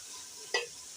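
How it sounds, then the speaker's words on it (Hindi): A spiced masala base for an egg curry with green chillies and tomatoes sizzles faintly in a pan, with one brief scraping stir partway through and otherwise a quiet, steady fry. "मसाला हमारा भुन चुका है"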